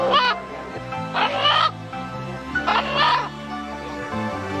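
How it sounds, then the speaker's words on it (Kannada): A rooster crows twice in quick succession, each call a loud, strained cry about half a second long, heard over a steady tonal background. "ಜನರು ಹುಂಜ ಕೂಗುವ ರೀತಿ ಕಂಡು ಬೆಚ್ಚಿದರು"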